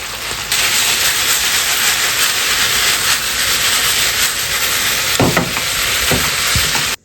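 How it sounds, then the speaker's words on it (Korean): Cabbage, scallions and carrot stir-fry in a hot pan, giving a loud, continuous sizzle, with a few brief scraping knocks of a utensil near the end. "아까 볶아놨던 양배추랑 아, 쪽파를 넣어줍니다."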